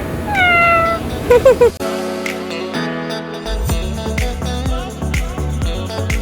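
A pet cat gives several close, clear meows in quick succession at the start, then music takes over.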